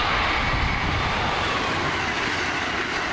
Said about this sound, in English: Acela trains whistle to and through Rhode Island daily.